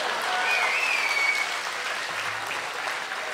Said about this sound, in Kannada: ಅವ್ರು ಒಳ್ಳೆತನಕ್ಕೆ ಒಂದು ಚಪ್ಪಾಳೆ